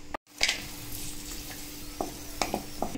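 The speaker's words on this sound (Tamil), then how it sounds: "நெய் நல்லா சூடானதும் அதில் கொஞ்சமாக திராட்சை, கொஞ்சமாக முந்திரி பருப்பு, இது எல்லாத்தையும் வந்து நல்லா பொறிச்சு எடுத்து லட்டுவில் சேர்த்துக்கலாம்" Raisins and cashews fry in hot ghee with a soft, fairly quiet sizzle, punctuated by a few light stirring clicks and scrapes against the pan.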